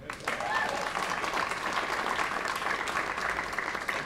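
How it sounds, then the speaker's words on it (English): At a city hall Pride illumination event in Columbus, a crowd applauds council members with steady, moderately distant clapping that holds evenly throughout, and voices murmur faintly beneath it. "You can clap for them now."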